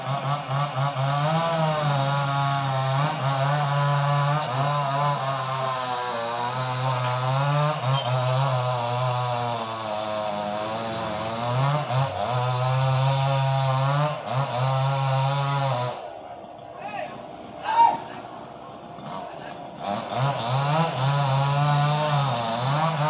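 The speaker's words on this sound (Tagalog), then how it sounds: "nag-uumpisa na silang lagariin yung puno." A chainsaw cuts through a coconut tree trunk, its engine droning loud and steady with revving pitch swings, briefly dropping off near the end before roaring back up; no voices.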